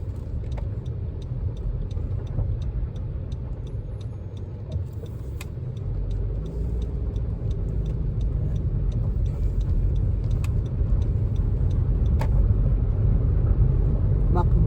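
Car driving on a potholed, bumpy road in Canada, a steady low cabin rumble of engine and tires that grows slightly louder, with faint ticking knocks throughout.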